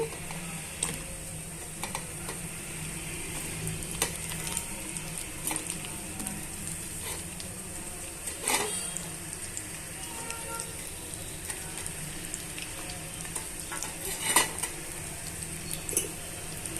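Green chilies and onion pieces fry in a pan in a Telugu kitchen, a soft continuous sizzle with occasional light clicks of stirring, faint and close.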